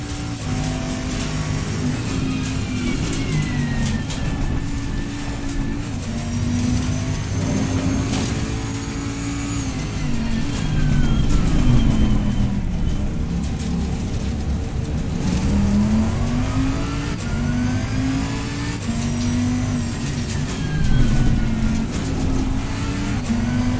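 A Bentley race car engine in the video game Assetto Corsa Competizione roars continuously, pitch rising and falling through gear shifts as it accelerates and slows, steady and fairly close with no talking.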